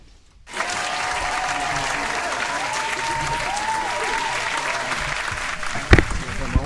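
An applause sound effect played on a live stream kicks in abruptly after a brief quiet moment, a steady crowd-clapping bed with a faint whistle-like tone, and a sharp thump near the end.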